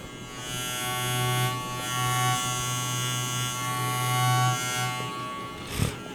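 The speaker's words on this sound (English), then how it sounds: "This is the Onyx trimmer. Let's do a little sound test real quick." A JRL Onyx hair trimmer buzzes steadily up close, a constant electric hum running unbroken for several seconds with no talking.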